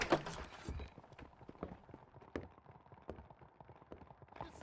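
Horses' hooves clip-clop steadily at a quick pace over ground in the Red Dead Redemption video game, faint and fairly close, with scattered thuds and background game ambience.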